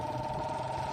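Motorbike engine running steadily with a buzzing mid-pitched drone and faint rapid pulsing, close and continuous, used as a sound effect in a spoken horror story; no speech.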